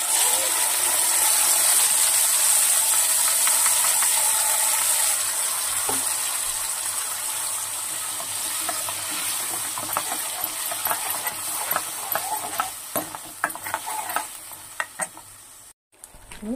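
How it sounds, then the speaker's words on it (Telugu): Tomato paste added to a hot pan for egg kurma and stirred, a loud bright sizzle that gradually settles while a spoon scrapes and clicks in irregular strokes toward the end. "ఇప్పుడు గ్రైండ్ చేసి పెట్టుకున్నాం టమాటా పేస్ట్ వేసుకోవాలండి."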